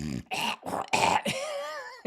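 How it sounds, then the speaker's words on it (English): A few rough throat-clearing rasps in quick succession, close and fairly loud, with a brief vocal tone near the end. "I hit the start and I'm like clearing my throat."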